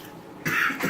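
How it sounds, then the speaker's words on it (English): After a moment of quiet, a person coughs loudly and harshly, twice in quick succession, close to the microphone. "Yeah, it'll make you cough."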